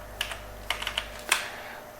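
Keys tapped on a computer keyboard while entering values into airfoil simulation software, a few sparse clicks and short bursts of keystrokes, close and fairly quiet, with no voices.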